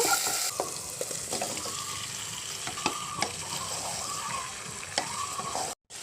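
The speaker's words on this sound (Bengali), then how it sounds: "এবারে আমি মশলা বাটা জলটাকে দিয়ে ভালো করে কষিয়ে নেবো" Spice paste with salt being sautéed in a pan for a pointed gourd and tiger prawn curry, a steady sizzle with repeated scraping stir strokes throughout, fairly close, with no voices.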